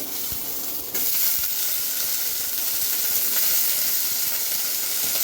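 Washed eggplant pieces drop into a hot pan, the sizzle jumping up abruptly after a moment and holding as a loud, steady frying hiss with faint stirring underneath, no voices present.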